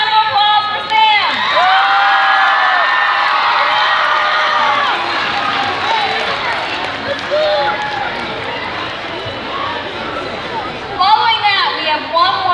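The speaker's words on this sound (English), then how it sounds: "Let's have another round of applause for Sam." Audience at an all-school community meeting applauding and cheering, with whoops and shouting voices forming a loud, sustained crowd roar that eases slightly midway, then swells again near the end.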